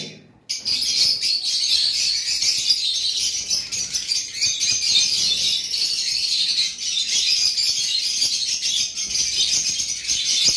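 Dense, continuous high-pitched chirping from many birds, steady and bright throughout with a few faint insect-like trills underneath.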